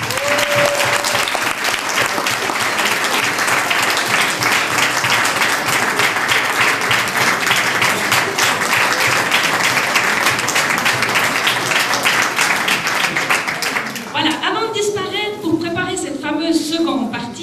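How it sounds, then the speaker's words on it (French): An audience at an annual parish brass band concert in Cugy-Vesin applauds loudly and steadily for a long stretch, a dense wash of many clapping hands that tapers off near the end as other sounds come in. "c'est à nous de vous applaudir pour vous remercier"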